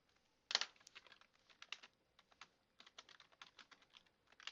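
Computer keyboard typing up close: one sharp opening tap, then a steady run of quick, light keystrokes in irregular bursts with short pauses, fairly quiet in an otherwise still room.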